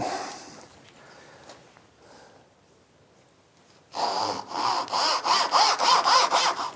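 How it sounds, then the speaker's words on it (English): A Japanese hand saw cuts wood for through dovetails held in a vise. After a few quiet seconds of soft handling sounds, rhythmic back-and-forth rasping strokes start, close and loud, with no talking. "Trusty Japanese saw."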